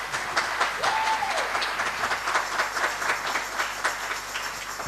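A church congregation applauding, dense sustained clapping from many hands that holds steady and loud throughout.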